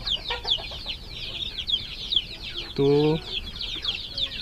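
Week-old Rhode Island Red production-type chicks peep constantly in a rapid, high chatter in a brooder, while a voice nearby speaks briefly.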